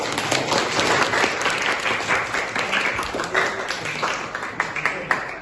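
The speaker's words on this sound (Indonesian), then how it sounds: "Baik, tepuk tangan sekali lagi." Students in a classroom during an Islamic jurisprudence lesson clap after presentations, a fairly close burst of lively, uneven handclapping that tapers off, with a few voices mixed in.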